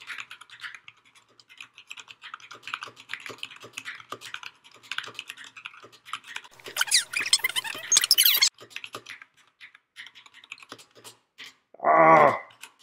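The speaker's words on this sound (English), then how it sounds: "I'm going to test my typing speed." Fast, steady typing on a computer keyboard during a typing speed test, dense light clicks with a busier flurry midway, ending with a short vocal exclamation.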